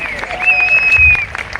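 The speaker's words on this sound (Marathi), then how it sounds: "माझ्या बायकोसाठी टाळ्या" At a Haldi-Kunku women's gathering with games and a lucky draw, an audience claps under a tonal squeal, with a voice speaking over the applause in a busy hall.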